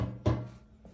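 A metal ash bin slides back into place in a wood-burning stove, giving one brief clunk followed by faint scraping, close and alone with no talk.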